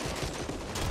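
Dense, sustained automatic gunfire from a zombie co-op shooter set in a nightmare-difficulty level, rapid overlapping shots filling the whole moment loudly with no pauses.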